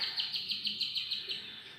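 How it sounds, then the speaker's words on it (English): Birds chirp and tweet in quick repeated bursts, a bright rhythmic run of high notes close by and fairly quiet, with no voices. "just listen to the lovely birds"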